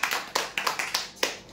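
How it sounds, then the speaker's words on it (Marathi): Claps greet a prize winner at a weekly customer lucky draw, arriving as a few sparse, separate hand claps rather than a full roar of applause, fairly near and moderately loud. "जोरदार टाळ्या होऊन द्या यांच्यासाठी"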